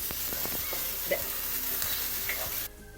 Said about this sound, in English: I'm just adding that and nicely sauteing the same, so till the smell goes off.